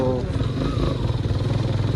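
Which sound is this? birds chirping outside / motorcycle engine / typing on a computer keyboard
motorcycle engine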